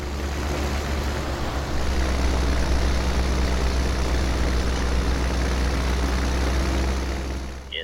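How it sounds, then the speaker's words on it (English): A Farmall 806 diesel tractor engine in Farming Simulator 17 runs steadily with a deep, low rumble, constant and fairly loud throughout, no talking over it. "Of course, it is a little diesel tractor too"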